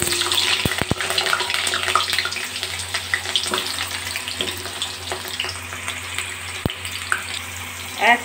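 Potatoes dropped into hot oil already frying with chili and bay leaf set up a loud, dense, continuous sizzle, broken by a few sharp clicks of a utensil close by.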